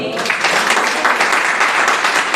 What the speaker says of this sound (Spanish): Perfecto, dale un fuerte aplauso al Señor.